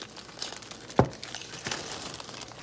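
Someone rustles and crinkles a small plastic bag while putting food into it, giving several short crackling bursts with one sharp rustle near the middle. The sound is close and fairly quiet, with no talking.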